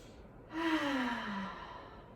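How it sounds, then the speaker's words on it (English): A single breathy lip flutter on a long exhale during a leg-stretching session, close and fairly soft, swelling quickly and trailing off downward over about a second. "maybe let out a big flutter through the lips on an exhale"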